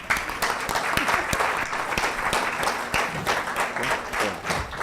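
An audience at a workshop on registering a small business applauds a speaker with a short burst of steady, moderately loud clapping from a modest crowd, indoors and close by.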